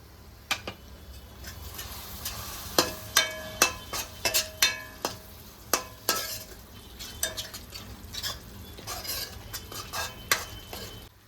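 A masala being cooked down for dhaba-style shev bhaji is stirred in a pan with a metal spoon, giving a string of sharp clinks and scrapes over a low, steady sizzle, close by and with no talking.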